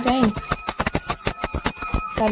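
A small prayer bell rings in rapid, repeated strikes during Janmashtami worship before aarti, bright and close, with a voice speaking briefly at the start and end.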